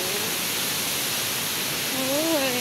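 Tinuy-an Falls in Bislig City pours with a dense, unbroken roar of falling water, and a voice rises briefly over it near the end.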